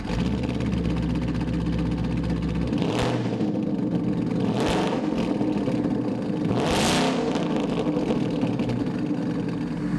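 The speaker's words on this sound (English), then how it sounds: "Now let's fire it up with our resonator delete H-pipe." A 2015-2019 Ford Mustang GT V8 with a resonator delete H-pipe idles loudly, then fires off three sharp revving bursts, each rising and dropping back to a deep, burbling idle, close and alone.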